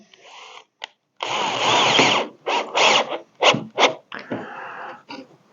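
A power drill drives Spax screws into wood in a series of short, loud bursts of whirring and grinding, some longer and some just quick pulses, separated by brief silences.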